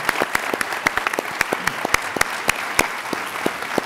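Applause from a summit audience, thinner and more scattered, with distinct individual claps standing out over a softer continuous wash for a few seconds.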